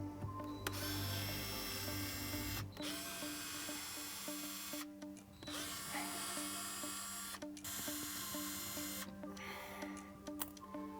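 A power driver backs the top Phillips screws out of a Jeep JL Wrangler interior dash panel, giving a steady close whirring drone broken by short pauses between screws, with no talking.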